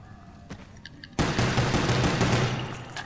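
Gunfire from Black Ops 1 Zombies on the Kino der Toten map, a few sparse shots at first, then a sudden loud, sustained burst of rapid fire that carries on to the end.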